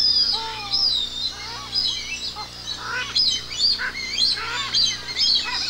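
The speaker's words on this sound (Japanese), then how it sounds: "島は再び鳥の声で揺れ始めます。" Dense colony of streaked shearwaters calling at night on an island off Wakasa Bay, many overlapping wailing, honking cries rising and falling continuously, close and loud with no talk.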